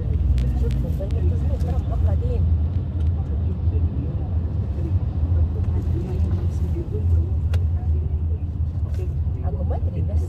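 Steady low rumble of road traffic beginning to build up, with engines droning continuously and voices talking faintly over it.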